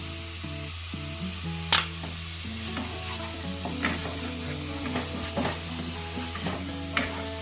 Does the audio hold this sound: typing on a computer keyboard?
no